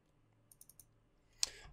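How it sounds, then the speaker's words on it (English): Two quick mouse clicks in a row, close and crisp in a quiet room, followed a moment later by a single sharper click. "we just double click to open this"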